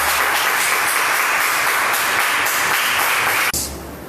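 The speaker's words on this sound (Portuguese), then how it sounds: "Vamos aplaudir bem forte ao nosso Deus." A church congregation claps loudly in a dense, continuous burst during a Wednesday worship service, then the sound cuts off abruptly near the end.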